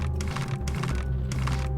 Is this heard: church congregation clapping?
no